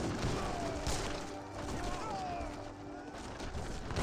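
Cannon and great bombard artillery booming in an Age of Empires 3 battle, heavy dull blasts mixed into a constant dense wash of game combat noise, with a voice commentating over it.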